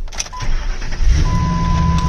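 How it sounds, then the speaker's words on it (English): A truck engine cranks and catches close by, a brief whir followed by a rising, rumbling idle that settles into a steady running drone. "hopefully I'll just start up the truck"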